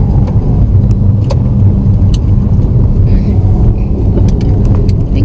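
A car passes on a road in Jamaica, a loud steady rumble of engine and tyres filling the whole stretch with outdoor ambience.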